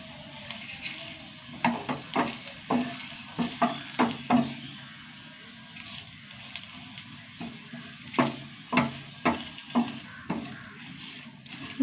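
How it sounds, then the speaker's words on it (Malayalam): Grated coconut roasting in hot coconut oil in a pan, a steady low sizzle broken by bursts of stirring and scraping that come in rhythmic clusters, close and fairly quiet, with no one talking. "നന്നായി വറുത്തെടുക്കട്ടെ കേട്ടോ."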